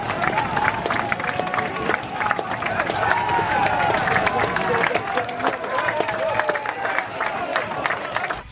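Football crowd at a Slough Town match giving a flat, scattered round of applause, steady claps and murmur from the stands over about eight seconds with general crowd babble mixed in.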